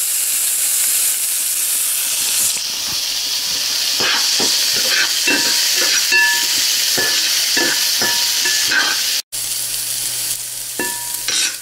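Chopped green chili and a handful of celery sizzle steadily in a hot pan, with scattered crackles and stirring clatter across a constant frying hiss; a brief dropout comes near the end.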